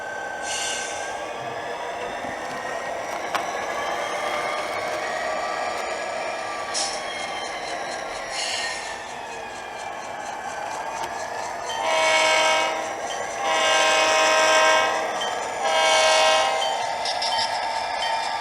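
Sound speakers inside a Genesis SD45 scale model diesel locomotive play a steady engine rumble, then a series of loud horn blasts near the end, heard from close by.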